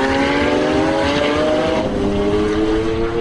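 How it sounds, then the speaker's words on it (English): A 2012 Lamborghini Aventador LP 700-4 with its V12 engine, running at speed on the Vallelunga circuit, gives a loud, sustained, steady engine roar with smooth rising harmonics, heard close and alone. "Whether speeds are double or triple digits, the engine pulls, and pulls strongly."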